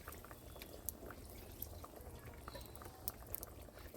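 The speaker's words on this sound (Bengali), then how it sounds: "আমি এবার দিয়ে দিচ্ছি কপিগুলোকেও দিয়ে দিচ্ছি ঝোলের মধ্যে" A fish curry broth simmers and bubbles steadily in a pot as cauliflower pieces go in, giving soft, close popping and sputtering with a few small splashes.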